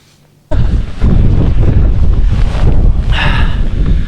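Strong wind on an open coastal hillside batters the microphone with loud, continuous roaring gusts that kick in abruptly after a brief quiet moment.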